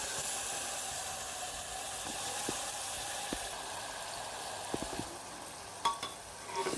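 Onions with a ginger, garlic and green chili paste frying in oil for a Bengali mutton curry give a steady close sizzle and hiss, with a few stirring clinks and scrapes toward the end.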